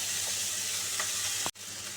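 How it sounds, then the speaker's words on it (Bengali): Sliced okra fries in hot oil in a home kitchen pan with a steady, close hiss and sizzle. A faint stir is heard, then a brief cut near the middle before the crackle resumes. "ঢেঁড়সটা একটু ভাজা ভাজা হতো ভাজা ভাজা হয়ে গেছে"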